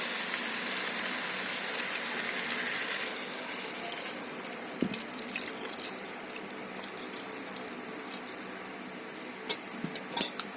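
Water poured into a pot of mutton dalcha, a steady splashing wash that softens after a few seconds, followed by light clinks and small knocks near the end.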